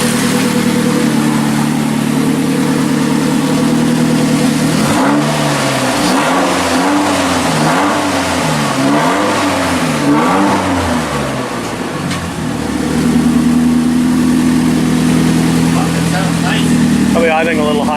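A 1981 Alfa Romeo Spider Veloce engine runs steadily at a slightly high idle, loud and close, with a wavering surge in the middle before settling back to an even idle.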